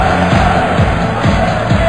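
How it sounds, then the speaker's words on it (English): A packed darts crowd at the 2009 World Matchplay, on its feet and cheering: a loud, steady roar of massed voices with a faint rolling pulse running through it. "The crowd are on their feet."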